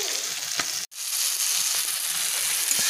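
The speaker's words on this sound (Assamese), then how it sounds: "এতিয়া মাছখিনি প্ৰথমতে ফ্ৰাই কৰি লওঁ।" Fish frying in a pan, a close, steady hiss of sizzling oil with faint crackles, briefly interrupted by a short gap.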